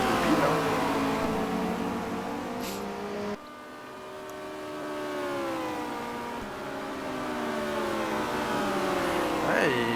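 Touring cars from the 1990 WTCC round at the Nürburgring Nordschleife, including a Citroën BX, roar past with rising and falling engine notes, loud and continuous for the whole stretch, under steady excited commentary.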